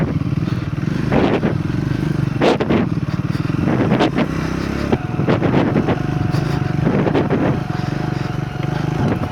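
A Triumph Scrambler 400 XC motorcycle rides off-road, its engine droning continuously under heavy wind buffeting, with surges and bumps as the bike moves over rough ground.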